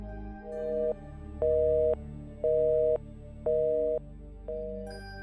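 A landline telephone gives a busy tone because the call will not connect: a steady hum, then repeated beeps in even on-off bursts, clear and close.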